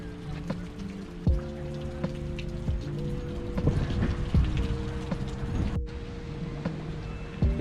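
Water from a park fountain in Golden Gate Park splashes and patters continuously, with scattered clicks and faint mechanical hums mixed into the steady spatter.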